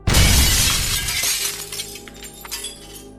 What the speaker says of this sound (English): The tank shudders violently, then explodes in a burst of green fire and shattering glass.